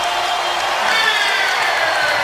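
Basketball arena crowd roaring and cheering during an NBA playoff Game 7 between the Celtics and Sixers, a loud sustained wall of voices with whoops and a commentator talking over it.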